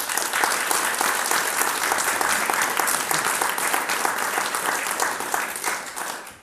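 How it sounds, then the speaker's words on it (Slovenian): Warm applause from the audience at a book presentation event, many people clapping in a thick, even stream that continues throughout and fades slightly at the end. "mislim, da zaslužijo lep aplavz."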